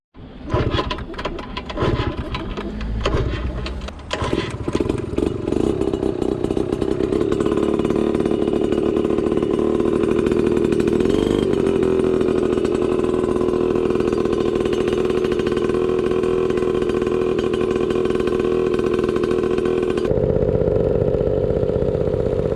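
A small Yamaha Passol scooter engine with a new exhaust sputters to life, then settles into a loud, steady buzzing drone heard up close, its pitch wavering slightly.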